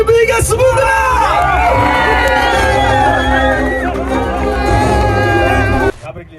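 An audience bursts into loud cheering, whooping and excited crowd chatter for a man who has just become the owner of a Chevrolet Malibu car, sustained for several seconds before dropping off abruptly at the end.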